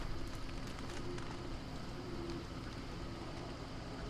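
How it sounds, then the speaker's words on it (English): Steady rain in the Don't Starve video game, a dense and constant patter that stays unbroken and fairly loud from start to end, with no speech over it. "Rain, please. Go away."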